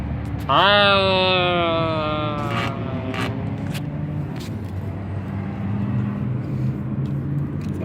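A car engine idles with a rough, throaty rumble through a dented muffler, steady and close for most of the span, after a brief tonal whine near the start that resembles a voice or horn.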